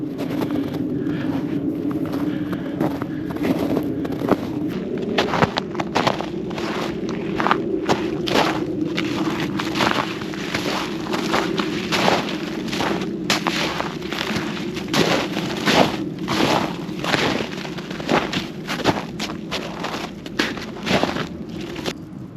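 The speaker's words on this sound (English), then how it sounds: "So that's the ice I'm stepping on, if you can hear that." Footsteps crunching on frozen ice on a winter hillside, a steady series of sharp, close cracks and crunches at walking pace over a low background rumble.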